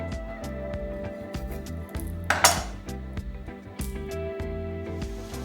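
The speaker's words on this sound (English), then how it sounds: "So I'm just gonna continue cutting the broccoli." A knife chopping broccoli on a cutting board in a home kitchen gives a run of light, fairly regular taps and clinks over a steady background hum.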